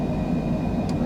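A Cessna Citation Longitude business jet on its takeoff roll at Jeju in Microsoft Flight Simulator, a steady loud engine roar with a dense low rumble and a thin high whine running throughout, with no voices.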